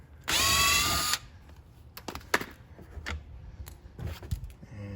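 A power tool whirs for about a second, backing out screws on the rear mud guards of a Honda. Scattered clicks and handling knocks of the loosened parts follow, close by, with no talking.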